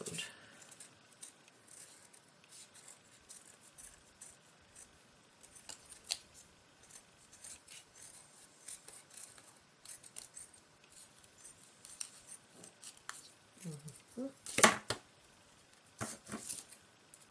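Scissors trimming glued craft material at close range: faint, scattered snips and rustles throughout, with a sharper, louder cut near the end and no talking.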